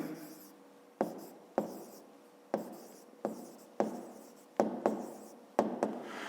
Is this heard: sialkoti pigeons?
no